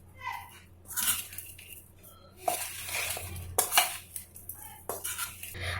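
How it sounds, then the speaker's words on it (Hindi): A spoon mixes spices in a metal bowl for mango and jackfruit pickle, scraping and clinking in irregular close bursts with quieter pauses between strokes. "अब इन सभी मसालों को अच्छी तरह से मिला लेंगे"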